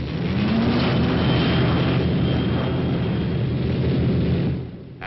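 Steady roar of airliner engines in flight at cruising altitude, a broad continuous drone with a faint rising whine, loud and unbroken before easing slightly at the very end.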